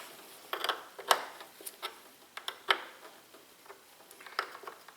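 A battery terminal on a Jeep Grand Cherokee V8 is tightened with a hand tool, giving a quick series of close, light metallic clicks and ratcheting ticks.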